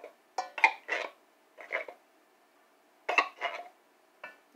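Metal clinks and scrapes from cooking ingredients being handled in a Dutch oven pot for a sausage stew, in short clustered bursts separated by silence, close and moderately loud.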